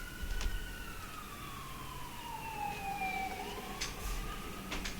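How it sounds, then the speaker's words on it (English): Emergency vehicle sirens wail with a long descending then rising tone, moderately distant over faint traffic hum, with a few brief clicks and knocks scattered through. "You hear these sirens now."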